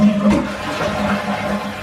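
A toilet flushes after a vinegar cleaning, a steady rushing and swirling of water heard up close and alone, with no voices.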